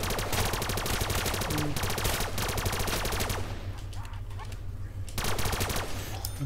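AN-94 rifle fire in a Minecraft zombies video game: dense rapid automatic gunfire rattling continuously, a brief lull in the middle, then resuming loud and close, with little talk.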